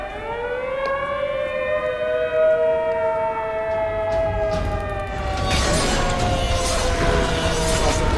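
A wailing civil defense warning siren from the video game The Secret World rises and falls in long sustained tones, loud and steady, with a harsh noisy burst joining partway through.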